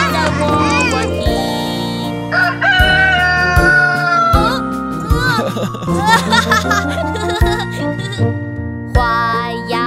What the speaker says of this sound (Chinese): 有一只小公鸡，它在喔喔啼